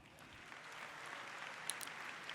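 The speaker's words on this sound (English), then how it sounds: "Let's give them a round of applause." Faint, distant applause from a conference crowd at a tech keynote, a soft continuous wash of many hands clapping heard from afar, with a couple of sharper claps standing out near the end.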